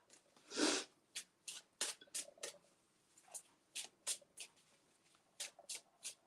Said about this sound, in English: So I am going to pull, we'll see how many Romance Angel cards come out.